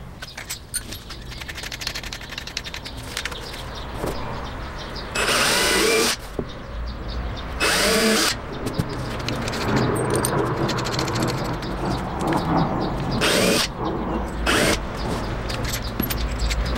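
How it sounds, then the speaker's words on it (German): Bursts of a power drill whirring into lightweight wooden panels while fitting a floor in an old van, several short runs of pre-drilling, countersinking and screwing separated by pauses with clicks and handling noises in between. "vorbohren, absenken, also so eine Senke reinmachen und Schraube reindrehen"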